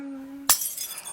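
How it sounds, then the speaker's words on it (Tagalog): Glass shatters sharply after a dropped item hits the floor while cleaning in a home, a single loud crash followed by a brief scatter of tinkling shards. "May nabasag ka na agad?"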